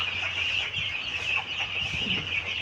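Tiger breed chicks about 25 days old cluck and cheep steadily close by, a continuous busy flock chatter with no people talking.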